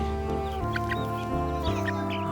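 Chickens clucking in short bursts over a steady, dense background of music-like tones.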